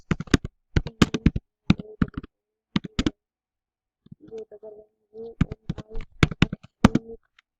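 Typing on a computer keyboard, close and crisp, in quick bursts of clicky keystrokes separated by short pauses, with a soft murmur of background sound in the gaps.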